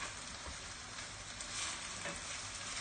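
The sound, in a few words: chicken being stirred and frying in a pan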